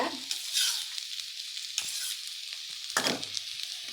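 Cooked, mashed moong dal goes into a hot pan for Kumbakonam kadappa and is stirred through, giving a steady close sizzle broken by a few sharp scraping stir strokes.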